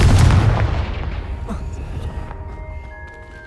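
A Confringo fire spell explodes in the Hogwarts Legacy video game, a loud close boom at the start with a rumbling tail that slowly fades. Faint tonal game sounds linger beneath, with no talking.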